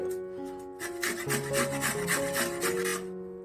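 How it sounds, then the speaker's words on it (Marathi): Carrots are rubbed against a fine kitchen grater in quick, rasping strokes, close and fairly soft, while steady tonal music plays in the background. "ही बघा बारीक किसणीने किसून घ्यायचे, सगळी गाजर किसून घ्यायचे"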